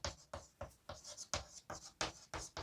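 Rhythmic scratchy strokes of chalk or marker writing on a board during a vector calculus lesson, about nine quick bursts in steady succession, close and clear with no talk.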